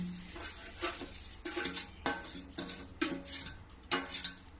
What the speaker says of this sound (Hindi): ये जो सूजी मैं थाली में निकाल के रखी हूँ, ये मैं सूजी वापस से मैं इसी में डाल दूंगी।